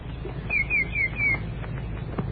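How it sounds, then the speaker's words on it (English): A wood thrush sings outdoors in a few short fluting warbled notes, moderately close over steady low background hum, then fades; no talking. "There's a wood thrush just"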